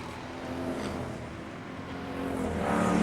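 Street stock race cars roar around the Mesa Marin Raceway oval as one spins in turn 3, a steady engine drone that swells louder toward the end.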